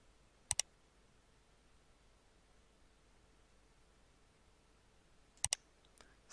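Computer mouse clicks while drafting in AutoCAD, two quick double clicks several seconds apart plus a faint tap near the end, close and crisp over quiet room hiss.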